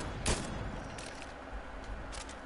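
A single sharp gunshot cracks out in a battle royale video game, one loud burst near the start and then a busy, noisy game background with fainter transient pops.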